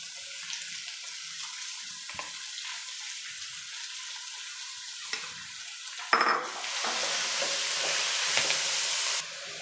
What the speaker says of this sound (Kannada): ಈಗ ಈ ಥರ ಎಣ್ಣೆಯಲ್ಲೇ ಚೆನ್ನಾಗಿ ಫ್ರೈ ಆಗಬೇಕು, ಚೆನ್ನಾಗಿ ಬೆಂದ್ಬಿಡಬೇಕು